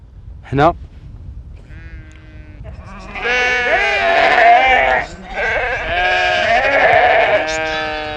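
Sheep bleat in drawn-out, wavering calls at close range, a couple of long overlapping cries after a brief sharp sound, with a mountain herding setting and low background noise.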